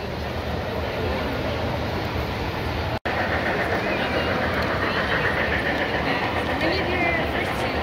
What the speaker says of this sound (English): The big train is chasing you.